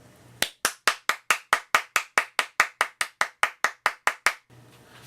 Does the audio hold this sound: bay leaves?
no